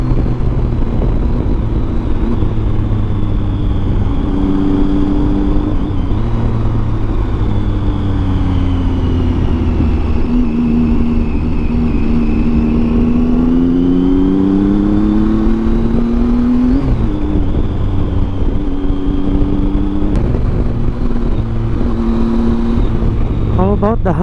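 Triumph Tiger 800 three-cylinder adventure bike fitted with a Yoshimura exhaust, riding on a road with a loud, steady engine drone whose pitch rises and falls through gear changes, under constant wind noise.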